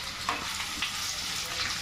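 Chopped onion frying in oil with cumin seeds for chana ghugni, a steady close crackling sizzle with faint stirring scrapes throughout and no voices.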